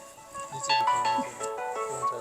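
A mobile phone rings with a bright, repeating melodic tone that comes in steadily and plays on for a couple of seconds during a descent down a steep mountain path to reach an elderly saint far below.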